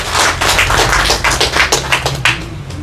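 An audience at a ceremony applauds for the Côte d'Ivoire delegation: loud, close clapping in distinct bursts that thins out toward the end, with no talk over it.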